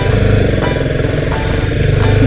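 An adventure motorcycle's engine churns loud and steady in a backyard, with a continuous close rumble and some clattering throughout.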